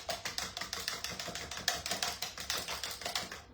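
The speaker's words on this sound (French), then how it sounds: "on vient mélanger ça avec la cuillère magique" A spoon stirs a lightly spiced mixture in a bowl for a salmon and leek tart, making a quick, even run of close tapping scrapes with no talking.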